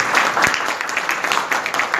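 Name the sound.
audience applause welcoming a speaker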